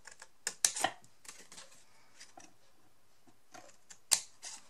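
Scissors or a cutter snip through a decorated paper box on both sides, giving a few quick, crisp clicks and snips close up with quiet pauses between.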